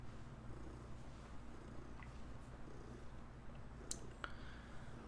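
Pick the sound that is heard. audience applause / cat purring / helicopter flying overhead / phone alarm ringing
cat purring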